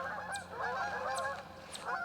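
Geese fly past over Lake Taneycomo in the evening, honking repeatedly in rising and falling calls at moderate distance, with a faint low hum beneath and no talking.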